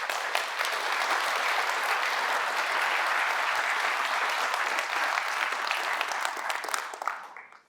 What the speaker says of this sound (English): So big round of applause for Joe and Macho